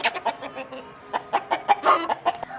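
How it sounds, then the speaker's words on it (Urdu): White China roosters of the Toobla breed cluck in quick, uneven bursts close by, a steady run of short calls from several full-size birds. "یہ سفید چینا مرغے ٹوبلا"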